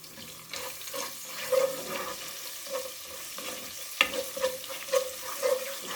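Whole garam masala of cumin, cloves, black pepper, black cardamom, star anise and green cardamom frying in oil with ginger-garlic paste, a light crackling sizzle with repeated stirring clinks and scrapes, close and without talk.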